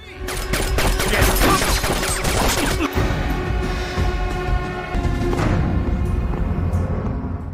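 Loud bursts of rapid gunfire with sharp cracks and crashing impacts, continuing for several seconds with a brief lull in the middle.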